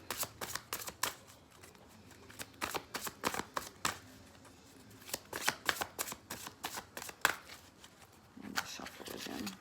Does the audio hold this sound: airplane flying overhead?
no